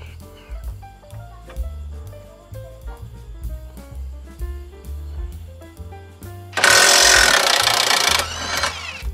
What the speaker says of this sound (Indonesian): Oke, apakah Yasuka masih mampu untuk membuka dua baut ini ya, kita buktikan.